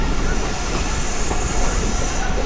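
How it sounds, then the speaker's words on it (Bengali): A mail train running slowly through a curve on a rural line, heard from on board as a loud, continuous rumble of wheels on rails with faint squeal, no talk. "ট্রেন কিন্তু কার্ভ নিচ্ছে"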